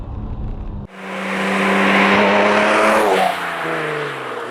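A sports car engine, a Honda NSX V6 or a Ferrari 355, cuts in abruptly and revs hard and close, holding a loud sustained roar before the pitch drops as it eases off.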